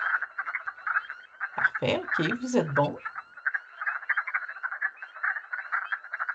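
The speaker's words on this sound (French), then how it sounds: "celle qu'on entend, c'est la grenouille des bois" Wood frogs call in a dense continuous chorus of clucking croaks, with a person speaking briefly in the middle over the calling.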